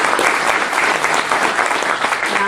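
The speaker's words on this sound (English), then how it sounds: "Give them a round of applause." An audience at a Rotary club meeting claps in a dense, sustained burst of applause throughout.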